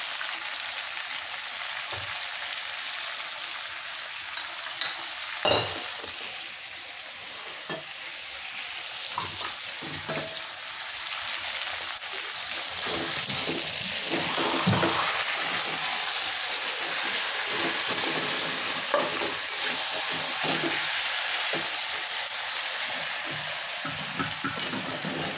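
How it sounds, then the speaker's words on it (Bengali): Country chicken curry with salt sizzles and fries steadily in a pan, with scraping stir strokes and occasional louder clatters of the spoon, close and continuous with no talking. "লবণটা দিয়ে ভালোভাবে নাড়িয়ে নেব।"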